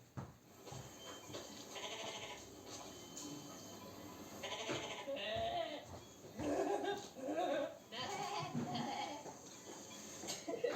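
A goat bleats several times in a French goat cheese advert, the calls close and varied over a steady busy background.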